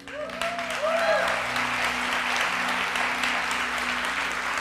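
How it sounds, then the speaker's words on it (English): A church congregation breaks into sustained applause, a dense wash of clapping that swells quickly and holds steady, with a voice rising briefly at the start. "And that is worth applauding for."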